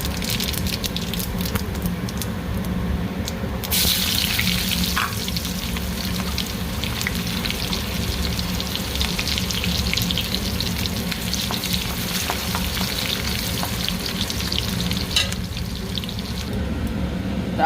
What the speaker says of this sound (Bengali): তেল দেওয়া হয়ে গেছে, এই কড়াইতে আমি কেবল ডাল সম্বরা দিচ্ছি।